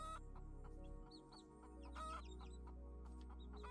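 Chickens clucking inside a hen house, scattered short clucks and squawks at low level over a steady low hum, no talk.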